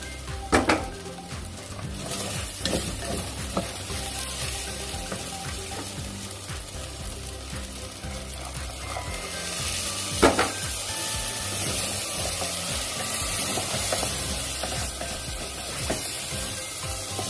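Soaked rice for abalone porridge is stir-fried over high heat with splashes of the rice-soaking water, giving a steady sizzle, metallic scrapes and a few louder knocks of the utensil against the pot, close and without voices.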